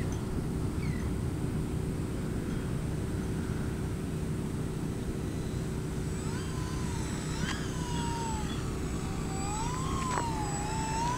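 An E-Flite EC-1500 Twin RC airplane flies slowly with its flaps lowered. Its electric motors hum faintly and steadily over strong outdoor wind rumble, and a few faint whistling pitch sweeps come through toward the end.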